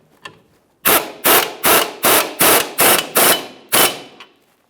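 A ratchet wrench tightens the lower control arm bolt on a 2005-2010 Chrysler 300 rear suspension, heard as seven evenly spaced, loud, sharp bursts of clicking, each about a third of a second long, with no talk.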